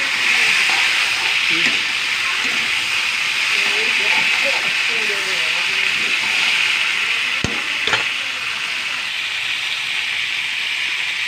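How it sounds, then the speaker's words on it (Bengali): Flat beans (bobboti) frying in a pan, a steady broad hiss with bubbling sizzle throughout, a couple of sharp clinks near the end as the pan is stirred, no talk. "বটবটিগুলো দিয়ে একটু ভালো করে ভাজতে থাকবো।"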